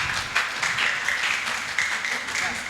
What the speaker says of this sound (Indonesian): kami mohon tepuk tangan